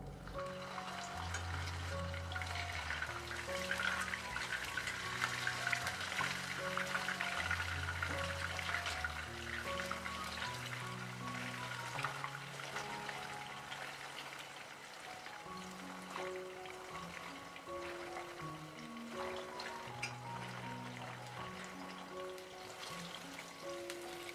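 Tuna sizzles and crackles in hot oil, a steady frying hiss that runs throughout with a soft tune playing underneath.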